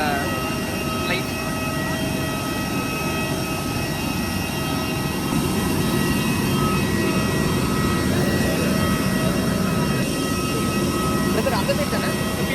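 A jet airliner's engines drone steadily at an airport before an IndiGo flight, a loud continuous roar with a faint hiss throughout and voices talking beneath it.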